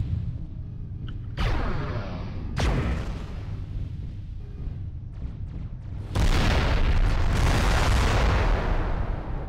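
Heavy weapon fire and explosions from a battling mech in MechWarrior Living Legends, with booming blasts, a sharp burst near two seconds and a sustained roaring barrage in the final seconds, loud and close with no talk.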